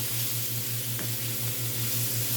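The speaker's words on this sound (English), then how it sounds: "now we're just going to stir fry it" Food sizzles steadily in a hot pan, a constant crackling hiss with a low rhythmic hum underneath and no talking; Brussels sprouts and onions being stir fried.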